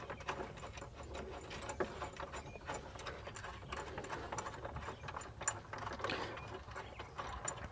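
A socket ratchet clicks in quick, steady strokes as it tightens a bolt on a MOLLE rack mount in a 2021+ Ford Bronco, faint and close with no talk.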